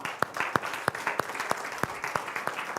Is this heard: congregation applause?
yes